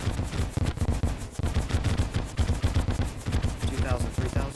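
The Celebration Mk2 rocket launcher fires in Terraria as a rapid, dense volley of punchy bursts. The shots pound at a fast, steady rhythm throughout, loud and close.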